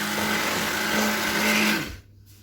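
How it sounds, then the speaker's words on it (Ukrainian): A hand blender whirs steadily at close range for about two seconds, mixing butter into a thick no-bake cake cream, its motor pitch shifting slightly, then cuts off into near silence. "І буду збивати це все ручним блендером"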